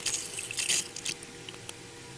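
Hot water from a tankless instant heater runs into a glass, a faint, brief trickle with a few splashy bursts and soft drips.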